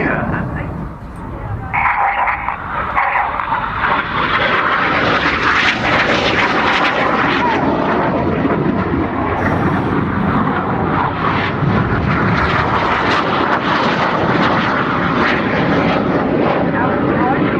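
Red Arrows jets in a flying display at an air show, a loud sustained roar of jet engines passing overhead and filling the air, with a public-address commentator talking over it.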